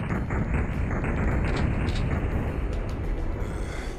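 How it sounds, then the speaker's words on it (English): A wall blown up in Duke Nukem 3D gives a loud, sustained explosive roar that rumbles heavily and evenly for several seconds before easing slightly at the end. "I blew up a wall, but that didn't do jack shit"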